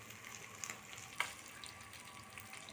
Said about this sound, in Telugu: ఆయిల్ హీట్ అయిన తర్వాత చేప ముక్కలను వేసుకోవాలి. ఒక్కొక్కటిగా వేసుకోవాలి. వేసుకొని కొంచెం ఫ్రై అవ్వనివ్వాలి.